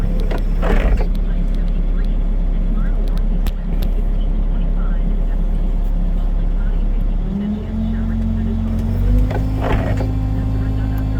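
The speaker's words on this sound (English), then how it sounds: "Running a skid steer Bobcat T76 and a diamond disc mower mulcher." A Bobcat T76 skid steer runs a Diamond disc mower mulcher, with a loud steady engine drone and a low hum that shifts pitch partway through as the machine works.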